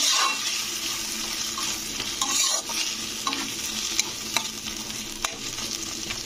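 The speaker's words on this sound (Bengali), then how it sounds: "তো এই তেলের সঙ্গে কিন্তু টমেটোটাকে কষে নিতে হবে।" Chopped tomato fries with spices in oil for a jackfruit curry cooked with goat fat, giving a bright steady sizzle up close, with scraping stirs and light clatters scattered throughout.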